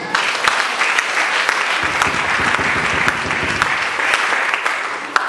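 Loud, sustained applause from a church congregation, dense and continuous clapping filling the room throughout with no talking over it.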